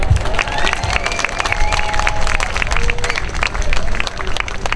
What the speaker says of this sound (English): I'd like us to give him a round of applause